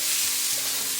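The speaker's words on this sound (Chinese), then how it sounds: "继续开小火给它煸香" Pork belly with scallion, ginger and garlic stir-frying over low heat in a wok, a steady close sizzle and hiss of hot fat with soft scraping stirs, no voices.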